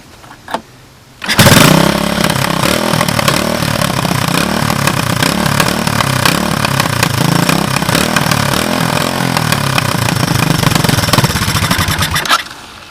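A 1984 Honda 200ES motorcycle with a cranky carburetor catches and fires up, then runs loudly and steadily at a rough, chugging idle for about eleven seconds close by before cutting off.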